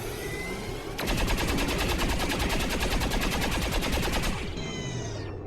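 A rapid burst of automatic gunfire in XCOM 2: War of the Chosen rattles out in a fast, even string of shots for about three seconds, then cuts off abruptly, leaving a fading ring against steady game background sound.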